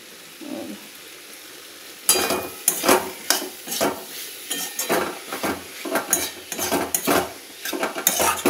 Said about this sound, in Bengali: একটু নাড়িয়ে চাড়িয়ে নিলাম।